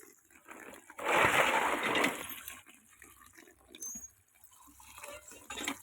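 Water gushes and splashes from a hand-pumped tubewell in a loud burst lasting about a second. Quieter trickles and drips follow, with faint scattered knocks.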